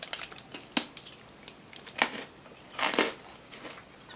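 Hard Australian candy shattering between the teeth, several sharp crunching cracks in quick clusters spread over a few seconds, close and fairly quiet, with no talking.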